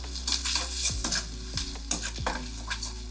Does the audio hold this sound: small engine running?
no